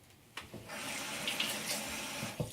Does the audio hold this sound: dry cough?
no